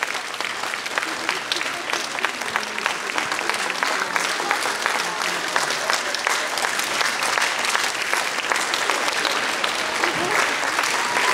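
Sustained audience applause fills an award ceremony for an international song festival competition, a dense steady clatter of many hands clapping close by with no break, and no talk heard over it.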